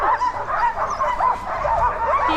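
Sled dogs in Lapland bark and yip in an excited, overlapping chorus, close and loud throughout with steady yelps and whines.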